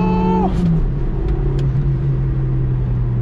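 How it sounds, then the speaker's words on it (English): A 1992 Citroen ZX 1.4i 75 hp car engine at full throttle while driving in the city. A loud, steady engine rumble is heard from inside the cabin, with a brief falling tone near the start. "Full throttle."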